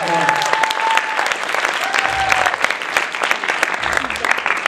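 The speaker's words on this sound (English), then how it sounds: "Give them a big round of applause" An audience at a college hypnosis show applauds the stage participants, with dense, loud clapping sustained throughout and a few whoops and shouts from the crowd mixed in.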